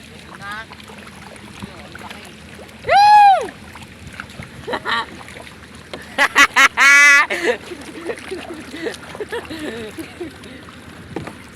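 A small rowboat is paddled through big waves, with several sharp splashing surges and loud rising shouts that stand out over a steady low wash of water and wind.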